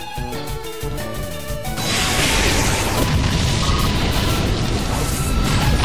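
Explosion move in the Pokémon Battle Revolution video game: after a stretch of game music, a loud sustained blast and crashing rumble bursts in and fills the rest of the clip.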